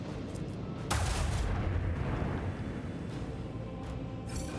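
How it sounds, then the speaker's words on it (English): In Warhammer 40K Rogue Trader, a starship's dorsal cannon fires in a space battle as a loud, booming blast. A sustained rumble follows and carries to the end, broken by a few sharp cracks, with no speech. "We've got the torpedoes in range of our dorsal cannon. We might as well fire that."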